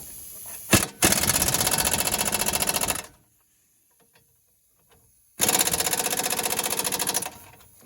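An impact gun hammering on the 13/16 caliper bracket bolts of a Dodge Ram brake assembly, rattling in two loud sustained bursts separated by a few seconds of near silence.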